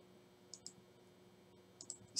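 A few light keyboard taps typing single letters into a search box, sparse isolated clicks heard close against a faint quiet background hum.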